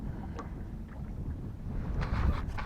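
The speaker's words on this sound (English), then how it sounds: "This wind is killing me." Wind buffeting a fishing boat in South Florida, a steady low rumble of gusts striking the microphone that swells louder toward the end.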